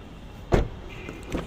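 The central locking of a 2022 Suzuki Ertiga opening: one sharp mechanical clunk, followed by a couple of fainter clicks, heard close up in a quiet car.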